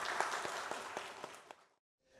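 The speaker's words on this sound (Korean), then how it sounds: "박수로 환영하도록 하겠습니다." A church congregation at a Sunday worship service breaks into dense, lively applause to welcome a speaker to the front, the clapping steady and close before it fades quickly to near silence.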